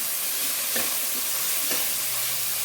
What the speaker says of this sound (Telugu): తర్వాత ఆనియన్స్ ఫ్రై అయ్యాక టమాటా వేద్దాం.